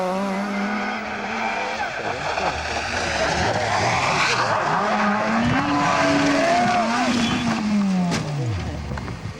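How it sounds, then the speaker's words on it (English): Vauxhall rally car on a tarmac rally stage, clipping grass, bouncing off a roadside bank and rolling over: loud engine revs rising and falling with tire squeal, then a sharp crunching impact near the end, with faint voices underneath. "He clipped the grass, bounced onto the bank on the other side of the road, and rolled over twice."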